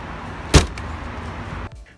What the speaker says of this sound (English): when you close the trunk, it is so loud inside the car that you can lose your hearing